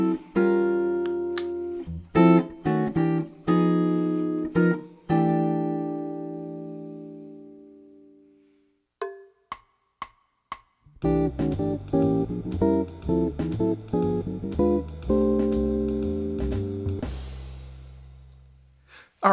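A jazz guitar comps rootless voicings through a chord sequence, a string of plucked chords followed by a pause and a final run resolving onto a C6/9, played clean and close with no voices.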